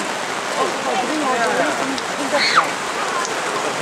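A heavy cloudburst pounding down at a campsite in 2011, a dense, continuous roar of rain on surfaces, with people talking faintly underneath and a few brief voiced exclamations.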